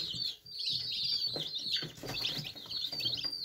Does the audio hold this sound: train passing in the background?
no